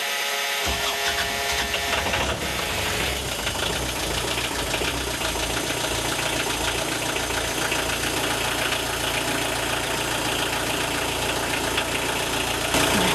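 A boat's inboard engine, fitted with a stuffing box and dripless shafts, rumbles steadily at idle right after starting, a loud continuous mechanical drone with a faint rattle that persists unchanged throughout, with no voices.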